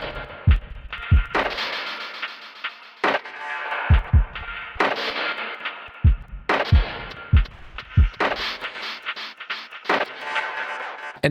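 A drum loop runs through the Liminal multiband gate with repeater and reverb: punchy kick thumps and bursts of bright, gated noise chop on and off in a stuttering rhythm, with reverb tails cut short between hits.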